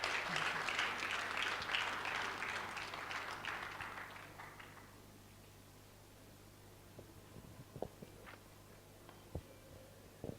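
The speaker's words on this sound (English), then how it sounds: "Can we give him a resounding round of applause?" Applause for the keynote speaker at an architects' conference opening ceremony, a moderate wash of clapping from a hall audience that fades out over several seconds, leaving quiet room noise and a few faint knocks.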